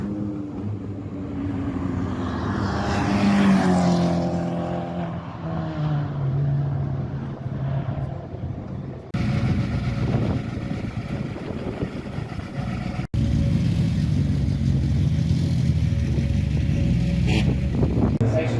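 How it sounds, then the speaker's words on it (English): A 750 Motor Club 116 Trophy race car at Oulton Park during practice and qualifying, its engine droning loudly and steadily throughout with abrupt cuts partway, and faint voices underneath. "Here comes our car with David driving."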